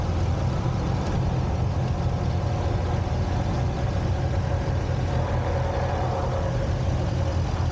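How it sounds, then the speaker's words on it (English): A 1957 Cockshut 20 Deluxe tractor idles steadily through a parade at an agricultural show, its engine giving a continuous low, rumbling drone with no break across the whole stretch. "Carolyn's driving a 1957 Cockshut 20 Deluxe."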